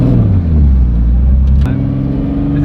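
A Nissan 240 drift car's engine drones steadily at low pitch, then its tone shifts upward as it revs, loud and close throughout.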